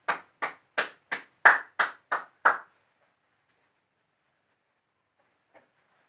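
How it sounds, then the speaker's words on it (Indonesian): Classroom applause for a student group: eight sharp, evenly spaced claps in quick succession, close and clear, then silence. "Tepuk tangan untuk kelompok 3"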